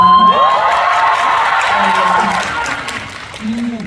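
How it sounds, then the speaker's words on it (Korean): A loud cinema audience at a Korean film screening with cast guests cheers and screams in a sustained roar, with high-pitched voices standing out, fading slightly before swelling again. "이 함성 오랜만에 듣는 것 같아요"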